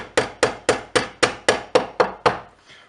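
Sharp metallic taps from an Allen wrench punching a pin out of a Hi-Point 9mm handgun, about eight evenly spaced close strikes in quick steady rhythm, each ringing briefly before fading.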